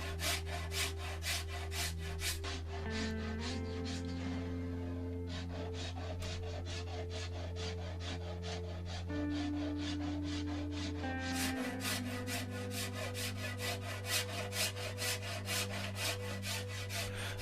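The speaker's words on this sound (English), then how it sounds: "I'm getting with the edges, the sharp edges of the bamboo there, again rounding that off. I'm just using a rasp here." A rasp rounding the sharp bamboo edges of a quadruple laminate English longbow: rhythmic, close-up rasping strokes in a steady back-and-forth pattern, continuous and fairly quiet, with a low hum beneath and no talk.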